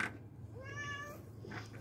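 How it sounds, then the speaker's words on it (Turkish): A rooftop cat gives a single drawn-out meow in the middle, fairly close, against a quiet indoor background hum with no talking. "Aa, sen de bu çatı kedisi oldun ha?"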